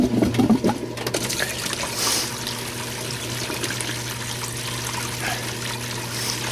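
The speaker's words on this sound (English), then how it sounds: "So I'm going to go ahead and plug this in, get some water running" Water runs steadily through a gold sluice box fed by a plugged-in pump, a loud, even trickling and rushing flow with a constant low motor hum beneath it.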